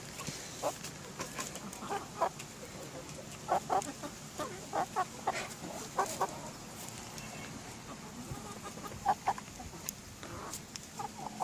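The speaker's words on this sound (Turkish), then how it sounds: "Burada da Plymouth cinsi civcivimiz maşallah horoz olacak." A young Plymouth breed chick, a rooster in the making, gives soft scattered clucks and short calls close by, intermittent bursts over a quiet farmyard background.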